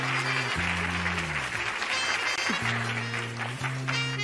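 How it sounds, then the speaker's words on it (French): A group of people applauding and cheering a young woman who won a writing contest, with clapping running under sustained music tones throughout. "Bravo, applaudissez tous, bravo Sanem!"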